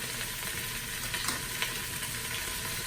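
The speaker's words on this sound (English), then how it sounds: "Now we're gonna let that sear up real nice." Italian-seasoned beef searing in a Ninja Foodi gives a continuous dense sizzle with small crackles, steady and close, with no voices.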